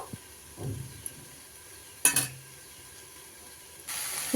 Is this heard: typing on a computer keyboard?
no